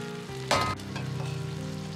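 Ginger-scallion chicken stir-frying in a wok as scallion leaves go in, a steady close sizzle with a brief louder burst of clatter and hiss as the greens hit the hot oil.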